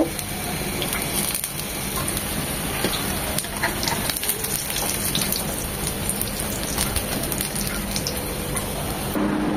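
Cauliflower and eggplant fritters deep-frying in oil, with a continuous dense sizzle and bubbling and scattered sharp crackles and pops throughout.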